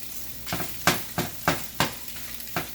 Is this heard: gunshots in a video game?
no